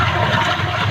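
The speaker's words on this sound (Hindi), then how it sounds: "ये बोरिंग है, इसमें पूरा का पूरा पानी नीचे जा रहा है।" Rainwater rushes steadily and loudly down into a borewell, a continuous close gushing roar with no pauses or voices.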